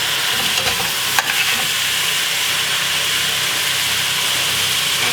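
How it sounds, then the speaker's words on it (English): Onion frying in a pan until golden brown gives a loud, steady hiss and sizzle, close and unbroken, with one brief clatter near the start. "Just cook this onion until golden brown"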